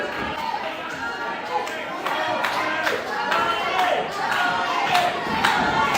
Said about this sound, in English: Crowd getting behind their champion